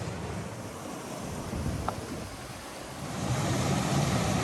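A small waterfall in a shaded spot around a river bend pours as a steady, broadband rush that stays constant and moderately loud throughout, swelling slightly toward the end, with no voices.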